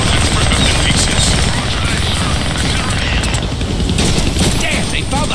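A helicopter drones loudly and continuously in the Deadpool video game, its rotor noise mixed with bursts of gunfire and game effects throughout.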